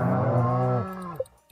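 A single cow moo from the Stardew Valley farming game, a loud, drawn-out low call lasting under a second and trailing off, followed by a small click, with no talk over it.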